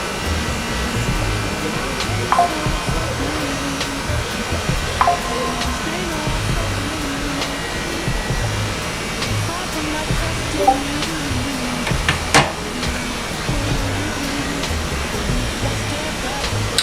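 A hair dryer blows with a steady, loud rushing whoosh that runs unbroken throughout, with occasional faint clicks and knocks in the room.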